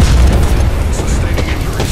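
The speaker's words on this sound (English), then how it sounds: "Incoming grenade." A grenade blast in a shooter video game, a dense low booming rumble filling the short stretch, with game voice callouts running over it.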